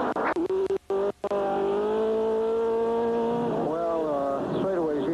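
Stock cars race at Martinsville Speedway in the 1979 Virginia 500, a loud sustained engine drone rising and falling in pitch as the cars pass, with an announcer talking over it.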